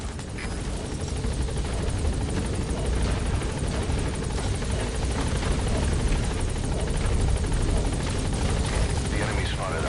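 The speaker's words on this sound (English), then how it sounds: "All right, the chopper's touching down." Support chopper touching down in Metal Gear Solid V: The Phantom Pain, a dense, continuous nearby rotor thump and engine whine, loud and steady from start to finish with faint speech underneath.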